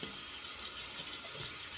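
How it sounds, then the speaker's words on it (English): Cold tap water runs steadily over an old PAA alum block, a soft continuous hiss and splash held at an even level from start to finish with no talking. "we're gonna wet it with cold water"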